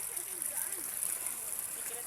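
Clear irrigation water streaming steadily through channels feeding mountain rice terraces near Buscalan village, a continuous bright hiss with faint voices in the background.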